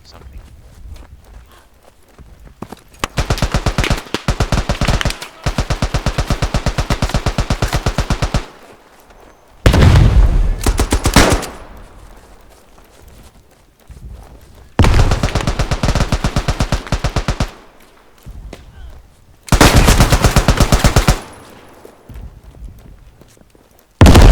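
Gunfire in the World War I video game Beyond The Wire: several long bursts of rapid automatic fire, loud and close, separated by short pauses with quieter shuffling footsteps between them.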